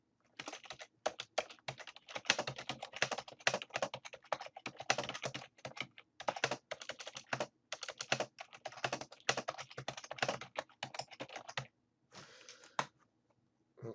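Steady typing on a computer keyboard to enter a short text description, quick close clicks in runs of keystrokes with brief pauses between words, heard alone in a quiet room.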